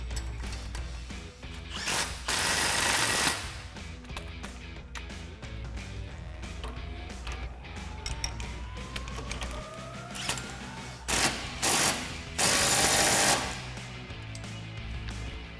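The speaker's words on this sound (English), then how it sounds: "tighten them down with our 18mm socket and our 18mm wrench" An 18mm socket ratchet and wrench tighten suspension bolts during a front leveling kit install on a Jeep Gladiator JT, giving quiet runs of ratchet clicking in several short bursts with no talking.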